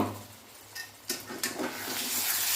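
A spoon or two of water going into paneer gravy in a pan, a short soft splash and trickle that swells into a hiss near the end, close by with no talking.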